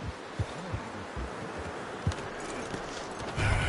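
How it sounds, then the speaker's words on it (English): Horse hooves clop at a slow walk in a video game, soft irregular thuds over a steady ambient background. "You should really tether that horse, Arthur."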